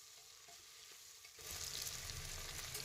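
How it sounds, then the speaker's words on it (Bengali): Potatoes, onion and tomato frying in hot oil with spices in a pan for a biryani. A quiet low crackle grows into a louder, steady sizzle as the vegetables go in, with no one talking. "পেঁয়াজ টমেটো কেটে রাখা ছিল সেটাও দিয়ে দিলাম, দিয়ে কিছুক্ষণ ভালো করে ভেজে নিতে হবে।"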